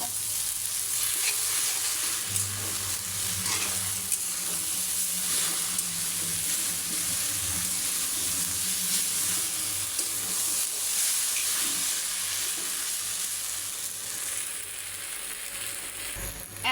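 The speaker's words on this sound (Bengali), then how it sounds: "দিয়ে দিব নুডলসের মশলা। আর ভালোভাবে নেড়ে ছেড়ে নেব।" Vegetable noodles with noodle masala are stir-fried in a pan, giving an even, moderate sizzle throughout with soft repeated scraping of stirring.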